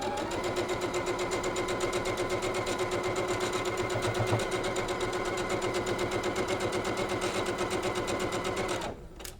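A sewing machine runs steadily and continuously, stitching the borders onto a quilt top at close range, with a rapid even needle rhythm that stops just before the end.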